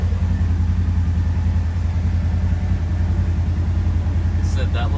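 Polaris General XP UTV, a 2020 Ride Command model, riding along with a steady loud engine drone and low rumble heard from inside the sealed cab, with a few brief higher squeaks near the end.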